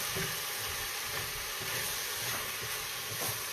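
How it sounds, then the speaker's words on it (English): Onions and meat sizzle at the bottom of a soup pot for chicken noodle soup, a steady close-up hiss and crackle with faint stirring scrapes and no voices. "we're just going to let our onions sweat for just a little bit as we get our other stuff ready"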